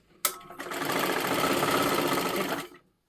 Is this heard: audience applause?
no